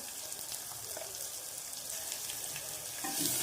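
Tempering for Marathi dal (phodni) crackles quietly in hot oil, a soft, even frying hiss with faint pops that grows slightly louder near the end; no talking.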